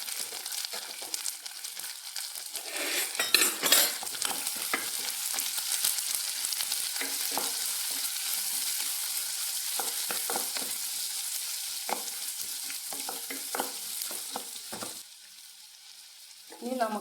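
Onion and beans fry in a pan for Kerala-style rava kichadi, a steady sizzle broken by repeated scraping stirs of a spoon, close and continuous, dropping away near the end.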